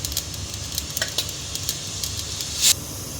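Mustard seeds, urad dal and a little fenugreek crackle and sizzle in hot oil, a steady frying hiss with scattered pops and one brief louder burst near the end, no voices.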